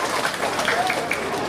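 An audience at a Ramadan pre-dawn religious gathering in Bantarsari claps for the organising committee, a brief, dense and steady wash of crowd applause.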